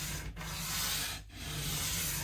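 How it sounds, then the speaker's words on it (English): Steady abrasive sanding on a part of an Alvarez acoustic guitar during a setup, worked with extra pressure on the treble side, a continuous close rasping stroke with two brief pauses. "I'm going to do that by pressing extra hard on the treble side and kind of unbalance the sanding for a minute"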